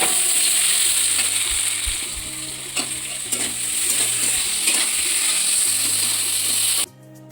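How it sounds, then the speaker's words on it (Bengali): Curry cooks in a pan, a loud continuous sizzle and bubbling with intermittent scraping from stirring, up close, then cutting off abruptly near the end. "এই যে এখানে মা কিছুটা তরকারি রান্না করছে"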